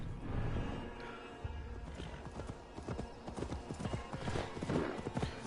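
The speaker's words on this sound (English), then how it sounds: "He just took my horse!" A horse gallops away in the video game Assassin's Creed Valhalla, its rapid clip-clop hoofbeats steady and fairly close, with a faint voice and ambient game sounds underneath.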